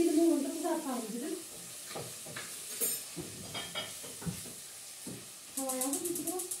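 Oil sizzles and crackles in a pan as meat slices fry while a person talks over it, the frying hiss rising louder toward the end.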